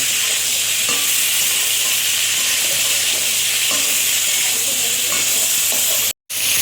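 Cauliflower pieces frying in a pan of oil, a continuous close sizzle with scraping stirring sounds, cutting out briefly near the end.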